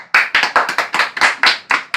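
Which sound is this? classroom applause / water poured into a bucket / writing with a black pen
classroom applause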